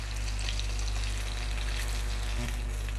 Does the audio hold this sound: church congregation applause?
no